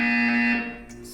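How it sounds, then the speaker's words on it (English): In the video game Portal 2, a loud, steady electronic buzzer drones for over half a second, then drops away, leaving a quieter tonal hum and faint brief chirps. "You will hear a buzzer."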